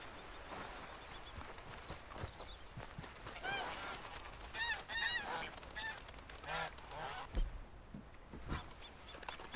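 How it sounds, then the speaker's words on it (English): Canada geese honk in Red Dead Redemption 2 at a stream during fishing, several loud honks in uneven bursts over a quiet outdoor background with faint other game sounds. "Are you guys all just Canada geese?"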